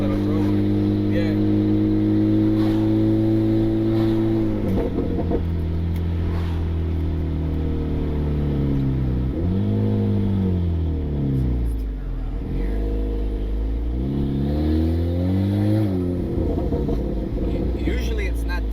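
Turbocharged Honda Civic with its muffler removed, engine droning loudly and revving in repeated swells and dips, close and raw from inside the car, with a voice talking over it.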